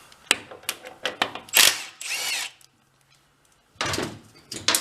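Hand and power tools working to pull the clutch off a small engine on a trashed engine-powered wagon: short bursts of drill whirring and metallic clicks in uneven spurts, with a quiet pause midway.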